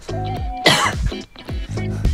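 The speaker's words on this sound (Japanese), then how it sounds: "なんかめっちゃ咳してますけど。" A person coughs and clears their throat in a few rough bursts in a quiet room, mixed with vocal sounds.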